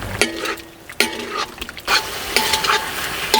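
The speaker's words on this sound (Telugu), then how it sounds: "ఇప్పుడు దంచి పెట్టుకున్న పొడి వేసుకుని 4-5 నిమిషాలు బాగా కలుపుకుందాం" Pepper chicken gets stirred in a pan after ground spice powder is added, giving a bubbling sizzle broken by several sharp scrapes and clinks of a spoon against the pan, with no one talking.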